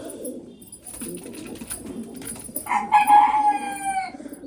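Pigeons cooing in their coop, several low throaty coos close by, joined partway through by a louder, higher bird call that rises above them.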